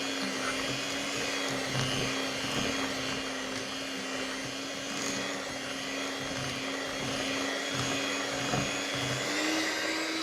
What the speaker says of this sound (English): And with a hand whisk, it's quite quick.